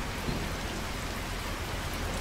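Heavy rain pours steadily in a truck driving video game, The Slaverian Trucker, as a dense, loud, unbroken hiss with no pauses.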